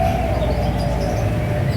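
Perkutut, a zebra dove, coos steadily at an outdoor bird kiosk, its soft low call continuous and fairly close amid a busy background of other chirping birds.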